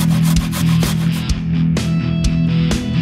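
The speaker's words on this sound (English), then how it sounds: "Grate the garlic." Garlic cloves being grated for Carolina Reaper hot sauce, a steady close rasping scrape with repeated strokes over a low constant hum.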